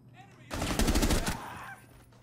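A short, loud burst of automatic gunfire in Rainbow Six Siege, close and rapid for under a second, then trailing off into quiet room tone.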